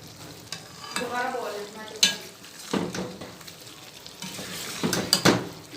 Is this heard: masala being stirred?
yes